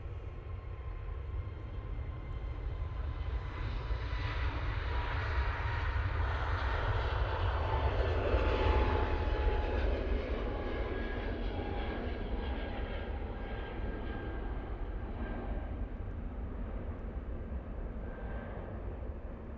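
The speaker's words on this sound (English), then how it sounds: "Here's this EasyJet. So going off to Alicante." An EasyJet airliner departs Manchester Airport for Alicante, a steady jet engine roar that builds toward a peak midway, then eases off gradually as it moves away, with no voices.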